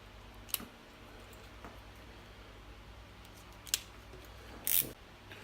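Scissors snip through small pieces of heat shrink tubing during an RC crawler (HPI Venture) wiring job, giving a few sharp isolated clicks spaced apart over a quiet room background.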